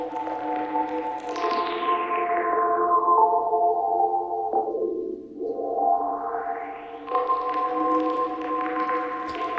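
Liquid vocoder synth patch in Ableton with the resonance turned up, sustained harmonic tones sweeping down then back up in watery, filtered glides, loud and continuous with no talking.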